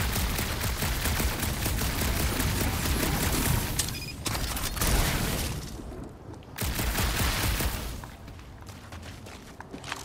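Rapid blaster fire from Star-Lord in the Guardians of the Galaxy action game, dense repeated shots and booms filling the mix, pausing briefly then resuming.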